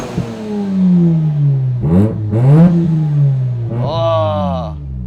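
A Japanese-market car engine revs up hard several times from idle, rising and falling in quick bursts with a sharp throttle response, close and loud, while people talk over it.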